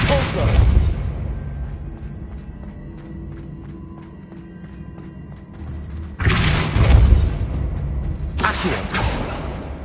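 Forceful booming spell blasts from the Depulso pushing charm in Hogwarts Legacy, one heavy burst near the start and two more after a quieter stretch, with thuds and faint footsteps between.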